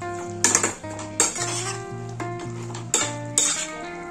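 Mutton curry stirred in a metal pot, with a utensil scraping and clinking against the sides in repeated strokes over a faint sizzle, close and clear, with no talk.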